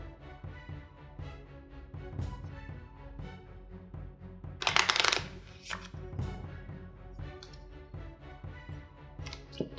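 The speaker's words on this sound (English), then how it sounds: "You have a good shuffle." A deck of Marvel Legendary cards is shuffled by hand, with soft rapid riffling and tapping, a louder burst of card flutter in the middle, and quiet clicks of cards settling close by.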